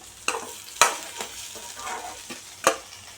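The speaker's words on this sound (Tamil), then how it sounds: "வெண்டைக்காயை நல்லா வதக்கியாச்சு" Okra (ladies' finger) sautés in a pan with a soft frying hiss, broken by a few sharp spatula knocks and scraping stirs spaced irregularly, close and moderately loud.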